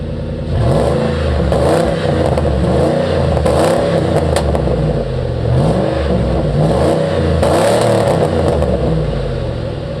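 A car fitted with a giant cut-out muffler revs loudly and up close in a garage, its throaty engine rising and falling in repeated pulls for the whole stretch.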